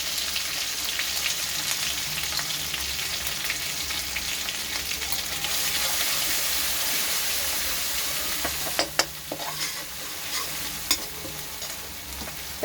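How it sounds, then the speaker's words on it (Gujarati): Chili paste and asafoetida sauté in hot oil with a steady, dense sizzle throughout, joined near the end by a few sharp clicks of a spoon stirring the pan. "એમાં નાખીશું 1 ચમચી ખાલી મરચાંની પેસ્ટ અને થોડી સાંતળી દઈશું"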